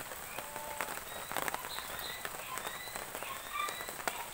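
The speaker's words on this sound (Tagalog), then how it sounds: "Malamang ito na ang simula ng tag-ulan" Light rain falls outdoors at dusk at the start of the rainy season, a soft, steady patter with scattered drops, while faint bird chirps sound in the background.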